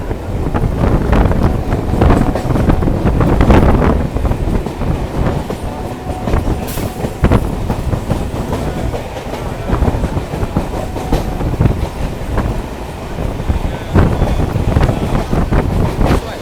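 A local train rumbles and clatters steadily along the rails departing Phulia station, heard from on board with heavy wind buffeting the microphone throughout and no talk.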